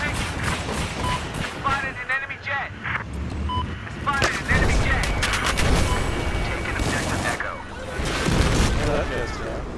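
Battlefield 4 gunfire crackles in repeated bursts and heavier blasts across a combat map, with players talking over the shooting throughout.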